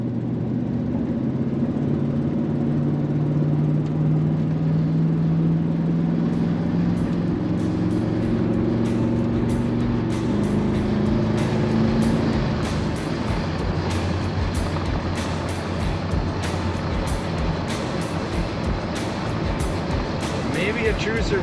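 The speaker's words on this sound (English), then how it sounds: "And this truck corners as it should." A 1983 Chevrolet K10 pickup rolls along and corners, its steady engine and tyre rumble running continuously underneath, with people talking over it for much of the ride.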